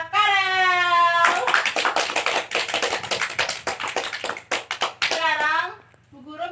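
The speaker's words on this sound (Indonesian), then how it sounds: "Beri tepuk tangan kepada Karel." Children in a classroom clap for a classmate who won a provincial music contest, a burst of scattered hand claps lasting several seconds between a teacher's voice at either end.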